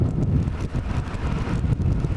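Strong wind buffets the microphone with a continuous low rumble and gusty roar, steady and loud throughout.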